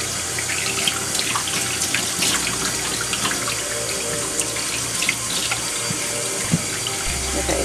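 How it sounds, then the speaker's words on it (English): Water runs steadily from a tap into a sink, a constant close splashing rush with occasional clinks and shifts in the flow. "And my sink, it does make a lot of noise."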